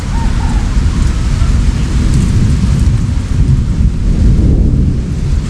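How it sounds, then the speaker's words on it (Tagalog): A loud, steady roar of heavy storm rain beats down continuously, with thunder rumbling low and deep beneath it throughout. "Ng kulog."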